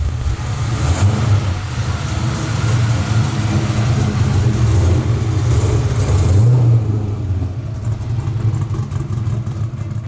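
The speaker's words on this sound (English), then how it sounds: "We're gonna go drive this thing, you guys." A 600 whp LSX-powered 1971 Camaro restomod rumbles loud and close, with a deep engine note that swells through revs and then drops back to a lumpy idle.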